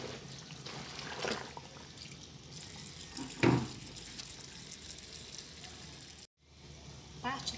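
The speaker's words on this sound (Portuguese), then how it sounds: "Vou trocar a água de novo." Tap water runs steadily into a basin for washing heavily soiled clothes by hand, a continuous splashing stream with a brief louder gush midway and a short break near the end.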